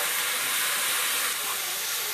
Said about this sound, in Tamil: இதை நல்லா நம்ம வதக்கி விட்டுறலாம்.